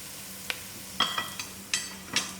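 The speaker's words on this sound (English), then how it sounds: "And give it a stir, allow it to cook for a few minutes." Mutton curry masala with curry leaf being stirred and fried in a pot, heard as a few soft, separate scraping stirs with faint sizzling underneath, close and fairly quiet.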